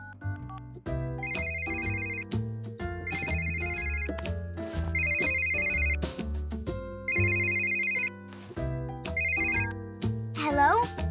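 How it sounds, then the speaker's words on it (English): A phone ringtone plays in repeated bursts over a busy musical background, loud and close, with short gaps between rings. "You can call your phone and we'll hear it ring."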